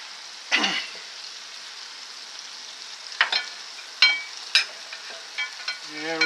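A crepe fries in a Made-In CeramiClad non-stick pan: a soft, low sizzle runs underneath while several sharp clatters and scrapes of utensils pop out at irregular moments, with no speech.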